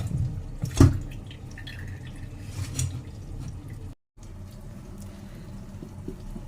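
Washed fish set to drain for a home-style fish curry, with soft water trickling and dripping off it in a steady low patter, close by, one brighter splash near the start and a brief silent gap.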